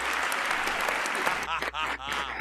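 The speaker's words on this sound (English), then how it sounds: "That deserves a big round of applause there, Mike." Applause at a livestreamed folk music performance after a song, a dense, steady clapping that thins and breaks up toward the end as a voice starts speaking over it.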